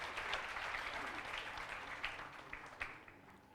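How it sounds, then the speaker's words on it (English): Applause from an audience at a press event, welcoming a gentleman to the stage; steady, moderately distant clapping that fades slightly toward the end, with no talking. "may I have a big round of applause for this gentleman"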